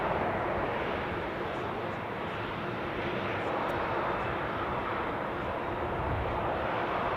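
An airliner lines up again on the runway at Leeds Bradford Airport, its jet engines producing a steady, loud broadband roar that holds throughout without pause.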